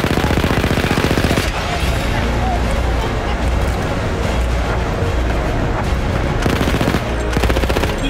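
Rapid, sustained machine-gun fire and explosions from the World War I shooter game Battlefield 1, loud and dense throughout, with a voice talking over the battle.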